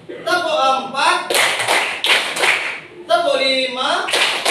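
A classroom of students clapping in rhythm, sharp group claps alternating with a voice calling counts, several clap bursts in a call-and-response pattern, loud and close.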